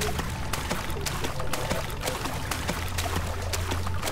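A water monster splashing through water in Amnesia, continuous pouring and trickling water with scattered sharp splashes, fairly loud and steady across the whole stretch.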